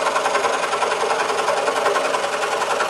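A scroll saw cutting thin waxed wood for a windmill project, a fast steady mechanical buzz with even rapid reciprocating chatter, close and loud, with no talk.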